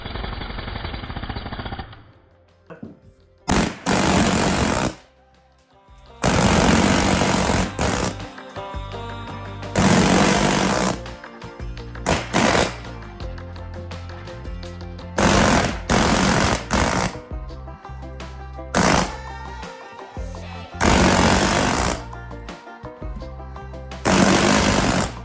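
Jackhammer fitted with a chisel bit breaking material out inside a school bus being converted, loud close bursts of hammering that start and stop repeatedly with short pauses between runs.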